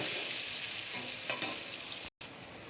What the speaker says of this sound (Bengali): এই আলুটা তেলের মধ্যে আলুটা দিয়ে দিয়েছি।